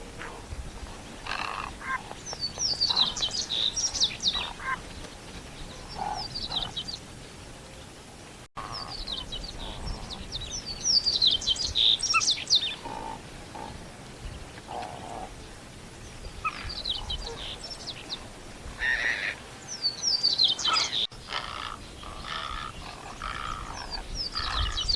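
Many birds calling along a stream channel lined with roseate spoonbills, gulls and white egrets, a dense overlapping chorus of chirps, squawks and croaking calls rising and falling in bursts throughout, no talk.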